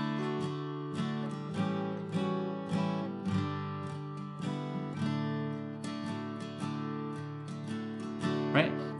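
Guitar plays an intro arrangement, plucked notes ringing and overlapping in a steady, unhurried pattern, close and clear with no talking.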